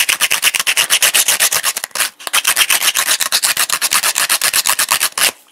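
Rough sandpaper scuffs pen tubes in quick rhythmic back-and-forth strokes, loud and close, with one short pause partway through and no talking.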